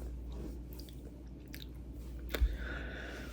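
Quiet close-up chewing of Coco Ball cereal in chocolate milk, soft crunchy bites and mouth sounds over a low hum, with one slightly louder crunch near the end.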